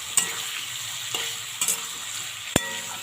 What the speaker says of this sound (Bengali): এটা ভাজতে একটু সময় লাগে